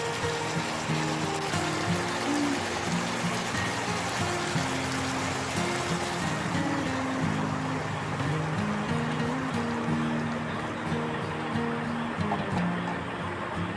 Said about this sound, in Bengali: এবার এখানে জল দিয়ে দেব তোমরা কীরকম ঝোল রাখতে চাও সেই অনুযায়ী জল দিয়ে দেবে